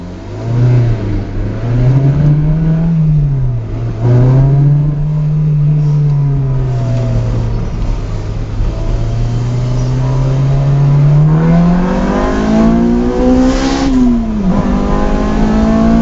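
A Honda Insight fitted with a swapped K20 engine accelerating on a test drive, loud and close from inside, its engine note rising through the revs, dipping at shifts, then climbing again.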